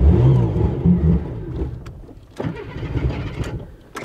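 A Ford Granada Mk2 2.8 Ghia X, abandoned for years, cranks loudly and tries to catch, its starter churning unevenly with sputtering engine bursts that fade and surge again, close to the microphone.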